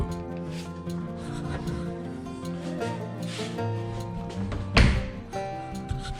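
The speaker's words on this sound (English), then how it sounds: "and as the door shuts." Interior closet door, hung in a simple built closet, shut once with a single sharp thunk near the end, preceded by faint rubbing and creaking as it swings.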